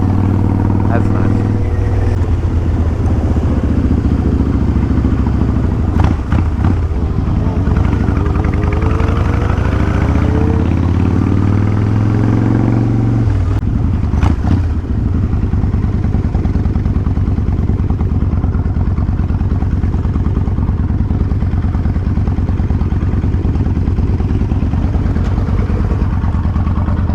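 A motorcycle engine runs steadily nearby at a low idle for the whole stretch, its rumble sitting under conversational voices, with a brief rev or clatter around the middle.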